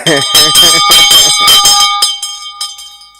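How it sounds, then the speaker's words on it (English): A handbell is rung rapidly close by, a burst of loud clanging strokes that stops and leaves bright metallic tones ringing out and fading. "We need for ring the bell."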